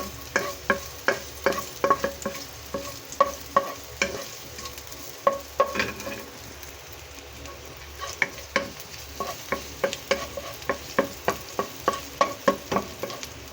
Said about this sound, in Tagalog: Ilalagay ko na yung sibuyas, bawang, tapos igisa natin.